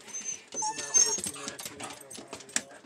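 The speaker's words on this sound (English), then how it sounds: "There's my dog. There's my doggy." A dog whimpers and yips in short, close bursts while a person talks warmly over it.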